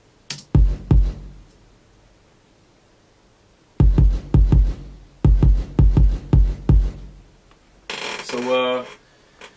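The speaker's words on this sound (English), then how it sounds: "My kick sound like this." Punchy kick drum hits from a sampled hip-hop beat thump in short clustered bursts, loud and up close, separated by silence and followed by a brief higher-pitched sound at the end.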